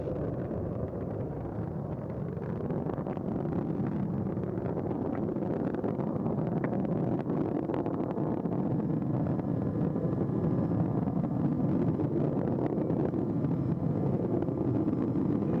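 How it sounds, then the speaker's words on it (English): Space Shuttle Atlantis on its final launch, main engines throttling up during ascent. A continuous distant, low rumbling roar with wind buffeting holds steady throughout, with no talking. "Engines now revving up, standing by for the throttle up call."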